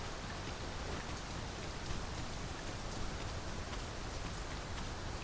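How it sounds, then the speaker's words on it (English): Steady heavy rain pours in the video game Dragon's Dogma II, a continuous hissing downpour at even loudness throughout with no voices. "push through a bit of rain, sure."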